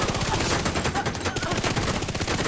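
Rapid automatic gunfire from the video game Division 2 fires continuously and loudly throughout, a dense, unbroken rattle of shots.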